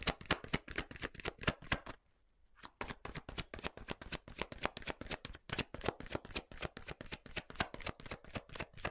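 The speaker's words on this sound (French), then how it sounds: "Allez, je prends une carte encore." Tarot cards are shuffled and handled in quick, crisp bursts of flicking and tapping, with a brief pause before the rapid riffling resumes, close and fairly loud with no talking.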